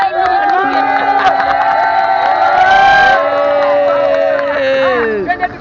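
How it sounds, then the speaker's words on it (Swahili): A crowd at a birthday party cheers and calls out in a loud, sustained burst with overlapping voices, sung tones and whoops, ending in a falling shout. "Makofi"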